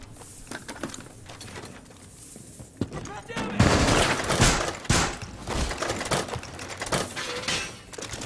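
Deployed machine gun firing in the video game Rainbow Six Siege, loud rapid bursts of gunfire amid other in-game shots and noise, with a dense fusillade over the middle seconds.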